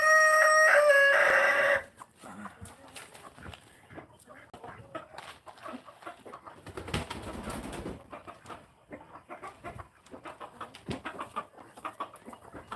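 Buff Orpington chickens near a coop, a loud burst of clucking and crowing-like calls in the first two seconds, then quieter scattered scratching and rustling movement outdoors with faint bird sounds.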